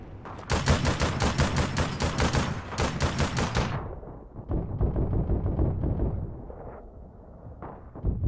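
Gunfire in APB Reloaded: rapid, evenly spaced bursts of loud close shots for several seconds, then a sparser, quieter run of shots trailing off, with no talk over it.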